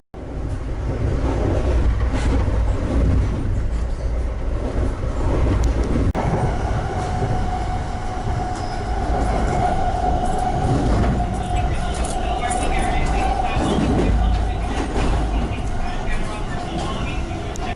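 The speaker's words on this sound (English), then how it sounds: "A SEPTA passenger train leaves while we approach the station." A SEPTA passenger train rumbles steadily nearby as it leaves a station, with a sustained wheel-and-rail roar and a rising tonal whine partway through, continuous throughout.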